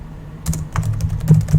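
Rapid, close computer keyboard typing in short bursts of clicky keystrokes while a name is entered, standing alone with no voices.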